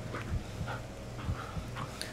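A dog in the Blair Witch video game pants and whimpers in quick rhythmic breaths with soft whines, close and fairly faint.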